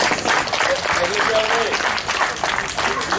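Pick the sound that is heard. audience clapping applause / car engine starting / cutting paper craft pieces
audience clapping applause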